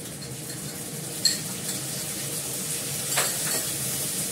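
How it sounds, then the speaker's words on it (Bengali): Yogurt goes into a pan of fried potatoes, giving a soft steady sizzle with a couple of sharp utensil clinks against the pan, quiet and close. "এর মধ্যে আমি দইটা দেব।"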